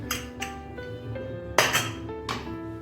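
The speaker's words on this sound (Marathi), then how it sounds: "आता आपण कुकर ओपन करू." Metal clinks and clanks from opening a pressure cooker lid after it has whistled three times while cooking dal gandori, several sharp close knocks spaced through the moment with a brief hiss-like burst midway.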